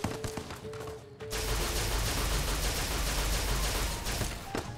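Rapid repeater rifle gunfire in the video game Fallout: New Vegas (Old World Blues), a loud sustained burst of overlapping shots after a brief quieter lead-in, continuing densely until near the end.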